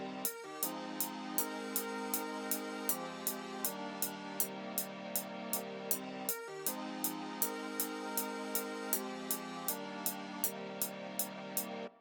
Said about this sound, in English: Next up is another saw preset